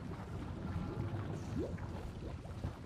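Water bubbles and churns in a tub in a bleak hospital setting in Silent Hill 2 Remake, a faint, steady low gurgle with soft irregular pops beneath a dull noise bed.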